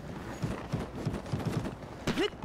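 A horse running in the video game Zelda: Tears of the Kingdom, giving a short run of soft hoof clops and then a brief snort or whinny near the end, with a faint low background.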